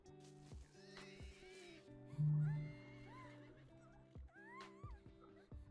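A horse whinnies loudly in an anime scene, a strong neigh in the middle among clip-clop hoofbeats and other sounds, with faint background voices.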